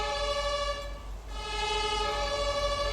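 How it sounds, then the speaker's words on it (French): A fire engine siren in the video game Farming Simulator 19 wails steadily and fairly loudly with a tonal, electronic quality, briefly dipping before resuming, over a low engine rumble. "Le bruit des véhicules des véhicules de pompiers."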